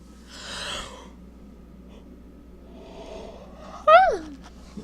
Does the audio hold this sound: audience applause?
no